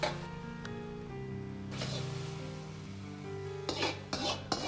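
Stir-fried vegetables scraped and scooped with a metal utensil from a wok into a soup bowl, with clinks and scrapes over a soft background tone and a couple of louder clatters at the end.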